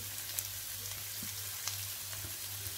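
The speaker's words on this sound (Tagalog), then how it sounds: "Igisa lang natin yung sibuyas." Onion sautéing in olive oil, a steady low sizzle and crackle in a pan at moderate distance, with faint occasional stirring ticks and no voices.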